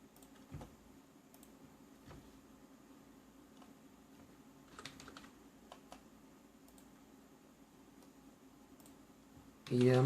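Keys on a computer keyboard are tapped to enter a password into a Linux terminal, producing sparse, faint clicks with short pauses and a louder burst of keystrokes at the very end.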